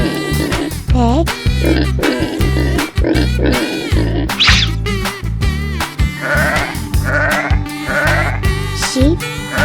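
A cartoon sheep bleats several times over a busy, upbeat music track, each wavering call loud and near.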